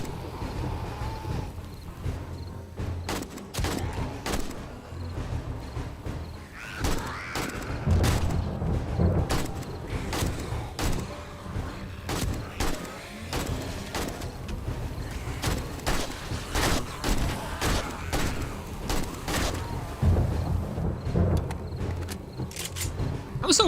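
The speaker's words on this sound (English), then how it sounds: "I should shoot with out aiming" Rapid AK rifle bursts fired without aiming in the survival video game 7 Days to Die, loud sharp shots repeating in clusters through the clip over game ambience and a talking voice.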